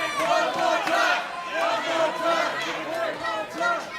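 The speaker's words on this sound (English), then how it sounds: "And now the crowd was chanting one more time" A wrestling crowd at a Boca Raton championship show chants loudly, with rhythmic rising and falling shouts from many voices filling the arena steadily for four seconds.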